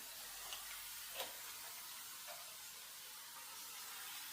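Water sprayed onto a wall ahead of lime rendering on a French cottage, a steady broad hiss throughout with a few faint brief spurts, fairly quiet and with no talking.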